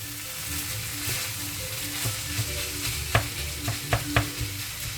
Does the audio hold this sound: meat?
yes